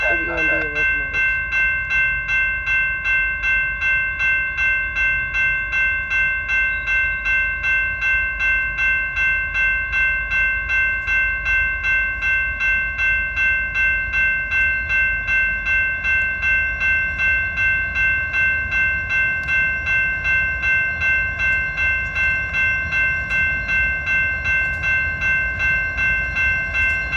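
BNSF manifest freight train hauled by EMD SD70ACe locomotives passing in Galesburg, a loud, sustained steady horn blast with a rhythmic pulsing rumble of the train beneath, and people talking nearby.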